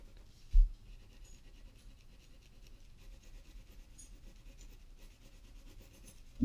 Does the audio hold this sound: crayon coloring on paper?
yes